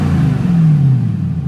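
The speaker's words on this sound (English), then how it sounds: "Rev the engine" A TVR Chimera engine revving, one deep rising then falling rev of a loud, close engine.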